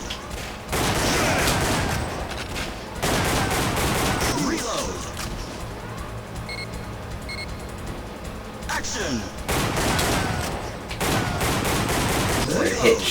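Rapid bursts of gunfire from the Namco arcade light-gun game Time Crisis on Sony PlayStation, loud repeated volleys with mechanical clacks and pauses between, a voice talking over parts of it.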